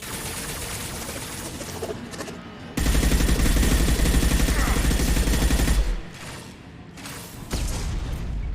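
Gunfire in Mass Effect 2 comes as a dense burst of rapid automatic shots lasting about three seconds, framed by a few single booms and some quieter stretches, with no talking.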